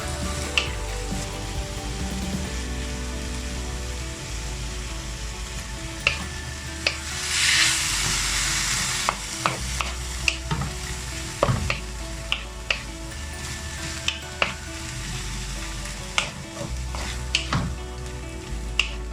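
Bottle gourd and ground pork stir-frying in a pan, a steady close sizzle with frequent sharp scrapes and clacks of a utensil stirring, plus a brief louder burst of hiss midway; no talking.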